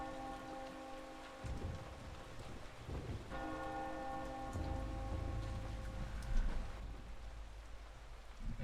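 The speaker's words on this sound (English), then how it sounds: "I'll ring the fucking bell." A large bell tolls in the dark game Eternal Darkness, its ringing tones struck twice in a row over a steady rain-like wash and low rumbling, with no voices.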